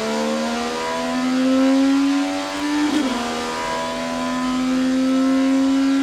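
IndyCar race cars at the Indianapolis 500 accelerating at full throttle, a loud sustained engine howl that rises in pitch, dips briefly as one car shifts, then climbs again, with no talk.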